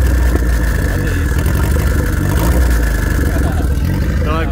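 A Fiat 147 with a 1.6 turbo engine runs steadily after starting, a loud continuous mechanical drone with clattering texture, close to the microphone and unbroken throughout.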